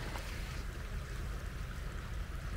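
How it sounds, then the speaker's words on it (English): Runoff from a waterfall flows through a stream crossing, a faint, steady watery rush with light splashes, no voices. "This is just runoff from a waterfall."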